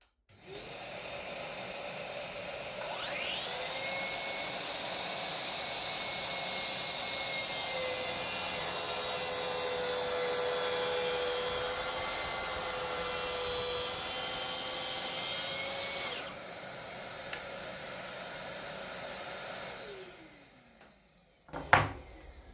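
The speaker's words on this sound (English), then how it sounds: "one final test to see how much it splinters across the grain on plywood" A Makita 18V cordless track saw cuts across the grain of plywood: the motor spins up, then holds a loud steady whine with a rough cutting rasp for about thirteen seconds before winding down, followed by a couple of clunks.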